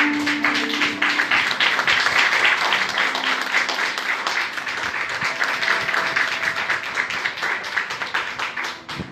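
A church congregation applauds at a Spanish-language service, loud close clapping with a busy, rhythmic texture sustained for several seconds, with a faint voice or tone underneath.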